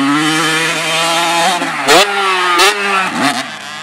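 Kawasaki and Husqvarna 85 dirt bikes rev loudly and steadily close by, their engine pitch rising and falling, with a few sharp throttle blips and dips near the end and no talking.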